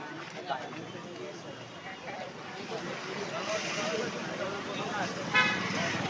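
Busy traffic at the auto rickshaw stand in Devrukh, with a steady rumble of engines and a few short horn toots over a continuous roadway background.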